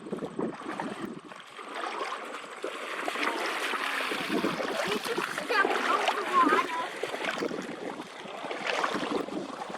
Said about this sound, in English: As you can hear, lots of families have gathered in the area to enjoy the shallow water.